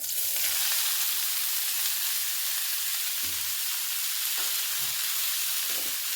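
Bottle gourd goes into a hot pan of fennel seeds for lau dudh shukto, setting off a loud, steady sizzle that holds throughout, with a few soft knocks of the pan underneath.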